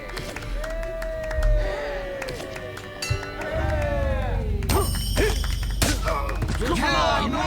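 A crowd cheers in the arena of Fable Anniversary, loud and continuous, with thuds and combat sounds mixed in and people talking over it.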